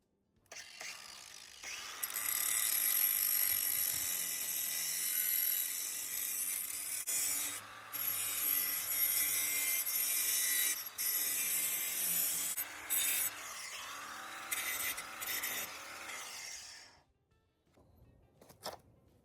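Grinding something down on a property: a loud, harsh, continuous abrasive grinding close by, running in long passes broken by short pauses, then stopping and trailing off into quiet near the end.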